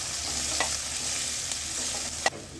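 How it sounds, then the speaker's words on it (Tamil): Onions sautéing in a pan for a chicken kulambu, with a steady hiss of sizzling oil and a few brief scrapes of a spoon stirring. "இப்போ வெங்காயம் சேர்த்துக்கலாம். இப்போ நல்லா வதக்கிக்கலாம்."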